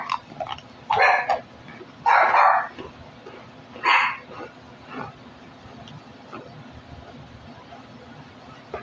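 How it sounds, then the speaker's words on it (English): A few loud, separate dog barks come at irregular gaps over a quiet indoor background during a casual live stream, with faint voices in between. "I don't have kids, I got dogs."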